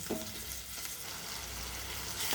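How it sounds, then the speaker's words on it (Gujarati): Tomato puree frying with chopped onion in a pan, a steady close sizzle and crackle of hot oil running throughout with a brief stirring scrape near the start. "હવે આપણે એક ટમેટાની પ્યુરી એડ કરીશું અને એની કચાસ કાઢીશું"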